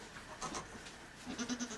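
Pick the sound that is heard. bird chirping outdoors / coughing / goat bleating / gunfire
goat bleating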